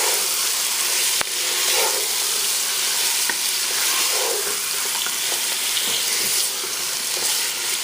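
Meat sizzles loudly in hot oil with fresh ginger and garlic as it is stirred in a pan for Khoja biryani, giving a steady, close crackling hiss throughout, with faint scraping now and then.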